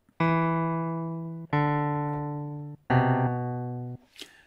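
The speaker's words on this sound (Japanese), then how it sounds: "このエレピの音でテストをしてみます。" Three sustained electric piano notes or chords from a Waves CR8 sampler, each struck and slowly decaying, played one after another, clear and close.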